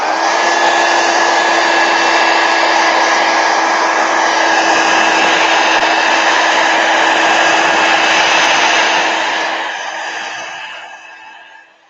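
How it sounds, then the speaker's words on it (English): A heat gun blows a steady, loud whooshing hiss to set fresh ink on a hand-lettered Zentangle drawing, running continuously for about nine seconds before tapering off as it shuts down. "Let me just hit it with the heat gun,"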